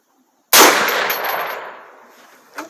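A single loud, close gunshot rings out from a 7.62x39 rifle upper fed by a 3D-printed Beowulf magazine, its sharp crack decaying over about two seconds, followed by a faint metallic clink.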